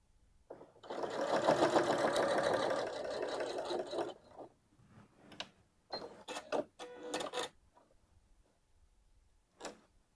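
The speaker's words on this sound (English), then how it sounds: "When I stitch, I want you to notice what's going to happen to the spring." A Janome sewing machine with a stabilizing foot stitches over a thick seam, a steady close whirring run of about three seconds, then several short bursts of stitching and clicks with pauses between, no voices.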